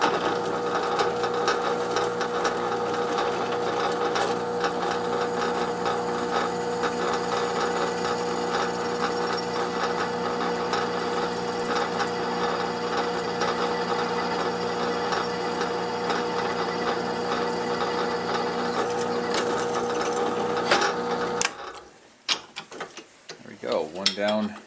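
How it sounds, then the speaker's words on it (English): A drill runs continuously for about twenty seconds with a steady mechanical whir, boring a hole on a Honda Sabre motorcycle, then winds down into a few clunks and rattles. "Yep, let's drill that hole."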